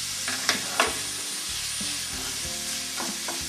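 Onions and garlic fry in a pan under a constant close sizzle, with a few soft scrapes and knocks of stirring and no one talking.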